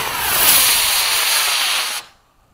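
An Ultra-Z practice rocket fires after sunset with a loud, close, broadband roaring hiss that holds steady for about two seconds, then cuts off abruptly into near silence.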